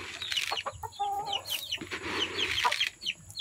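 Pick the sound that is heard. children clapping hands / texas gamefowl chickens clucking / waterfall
texas gamefowl chickens clucking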